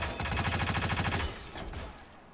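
Rapid automatic gunfire in the video game Hitman, a fast burst of evenly spaced shots lasting about a second, followed by a few scattered fainter bursts as the firing trails off.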